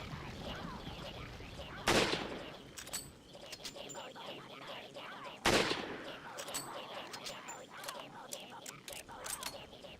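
Two sharp rifle shots from Resident Evil 4's Mercenaries mode ring out a few seconds apart, loud bursts standing above a busy layer of game effects and ambient noise, with a voice talking quietly underneath.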